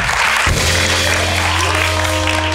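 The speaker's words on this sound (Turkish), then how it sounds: "Alkışlıyoruz Kerem'i" Studio audience on a Turkish late-night talk show applauding for the guest Kerem, a steady wash of clapping that fills the room and holds evenly throughout.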